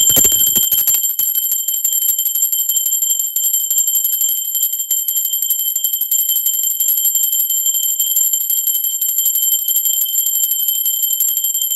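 A bell rings in a rapid, continuous metallic trill, loud and unbroken like an alarm clock's bell, sustained throughout with nothing else heard.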